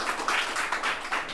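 An audience claps at a ceremony honoring teacher candidates selected through BPSC, giving a brief, steady burst of mass applause with a slightly pulsing rhythm that carries through the whole moment.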